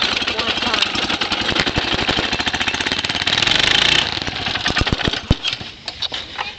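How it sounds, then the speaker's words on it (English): A cold Mitsubishi 6 hp GT600 go-kart engine fires up and runs with a loud, rapid, throbbing putter, revving briefly before stumbling into uneven pops and settling lower. "It has a Mitsubishi 6 horsepower GT 600, and it's pretty cold out here. And we're gonna start it cold."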